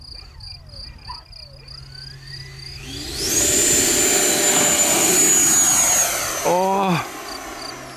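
An E-flite Viper 90mm EDF model jet on 6S power spools up to a loud, high-pitched ducted-fan whine. The steady screaming tone then holds and fades slightly, with a short spoken remark during the run.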